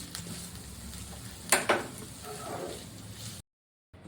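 Chicken samosa filling frying in a pan, a steady low sizzle with two sharp scraping clinks of a spoon against the pan midway, then a brief silence before the sound resumes.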